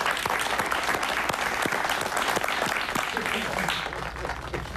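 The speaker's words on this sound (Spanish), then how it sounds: "Un aplauso para ella, ¿no?" A studio audience claps throughout a Spanish-language talk show, dense steady applause staying loud and easing slightly at the end, with voices faintly under it.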